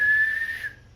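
A person whistles a single sustained, steady high tone for most of a second, close and clear, then it fades out.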